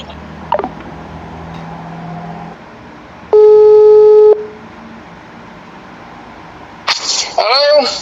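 A telephone ringback tone plays during a call to a chairman, a single loud steady electronic burst of about a second, with voices talking before and after.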